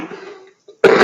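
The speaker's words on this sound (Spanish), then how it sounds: "Mira, me está entrando la tos." A person coughs loudly once at the close of a Spanish-language television debate, a short harsh burst after a trailing voice and a brief pause.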